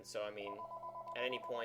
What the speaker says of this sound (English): then that's the phone going off.